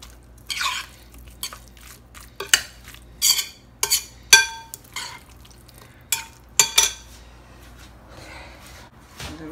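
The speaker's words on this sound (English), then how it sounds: "I basically mash up the egg yolk." Boiled egg yolk mashed with a utensil for an egg and cucumber salad, a series of irregular scraping and clinking taps of metal against a dish, close and fairly soft, with quiet pauses between strokes and no talk.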